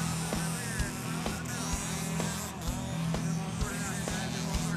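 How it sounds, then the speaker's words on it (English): Small engines of 1/5 scale RC buggies and trucks buzz and whine continuously as they race, with pitch rising and falling as they pass, fairly distant and steady. "Nothing captures the feel of real racing like the smell and sound of the 1/5 scale buggies and trucks"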